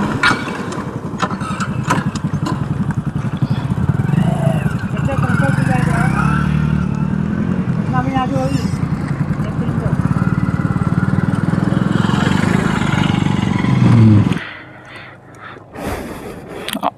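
A KTM RC 390 motorcycle engine runs roughly and sputters in uneven jerks for many seconds before cutting out near the end, loud and close, with a person talking over it.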